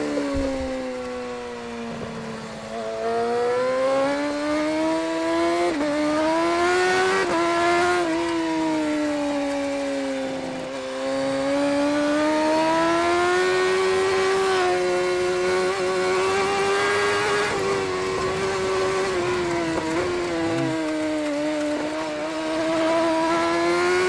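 A BMW HP4 Race motorcycle engine screams at speed from onboard, its pitch rising and falling steadily with gear changes and throttle over a continuous loud road roar. No voices are heard.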